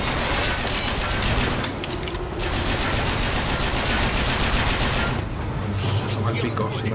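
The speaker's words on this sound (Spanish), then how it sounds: "El disparo de metralla, ¿dónde?" Shotgun fire in the BioShock Infinite video game, blasts buried in a thick, continuous wash of combat noise and effects that stays loud and constant throughout.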